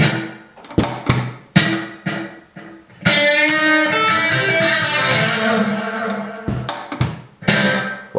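Electric guitar played through a delay effect on a Kemper Profiling Amplifier, with picked notes and chords whose repeats trail behind each attack, including a long sustained ringing passage in the middle, loud and up front.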